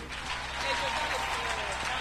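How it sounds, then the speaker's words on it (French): A church congregation claps steadily, with voices and cheers mixed into the applause. "On applaudit pour Jésus"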